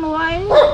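A dog gives a short, tonal whining bark that ends in a sharper yelp, close and loud over a brief moment, with household voices nearby.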